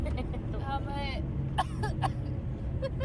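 Someone coughs and clears their throat indoors with the windows shut in a polluted area of Delhi, giving a few harsh, short bursts against a murmur of voices and distant traffic.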